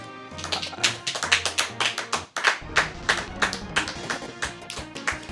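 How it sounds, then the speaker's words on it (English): Hand clapping, a run of sharp individual claps at an uneven, fairly quick pace over a faint musical background, with no voices. "I mean, I tried to clap."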